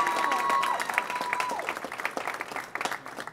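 A crowd's applause for Houston's Mayor Sylvester Turner as he is welcomed at a morning event: steady, dense clapping at moderate distance, holding for a few seconds with a faint tone ringing underneath.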